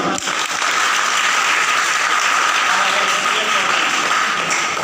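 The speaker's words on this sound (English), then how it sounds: "Please clap for her." A classroom audience of students clapping for a classmate at Rajendra Collegiate, a brisk burst of dense applause that starts sharply and stays steady and close for several seconds.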